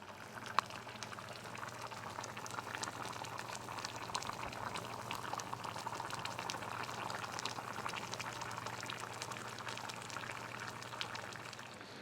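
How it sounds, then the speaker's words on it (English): Steady bubbling of a chicken tikka masala curry sauce boiling in a pot, a continuous soft gurgle and hiss that stays even throughout, no voices. "Now we're going to let this boil for a good half an hour"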